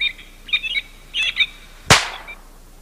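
Birds chirp in a few short, bright bursts, then a single sharp gunshot cracks out loud and decays quickly into quiet.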